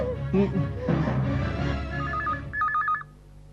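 A telephone keypad beeps through a short run of dialing tones after people talk over a low background score, the tones clear and close before the line falls quiet.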